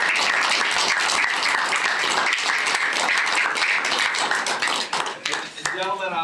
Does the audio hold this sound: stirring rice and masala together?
no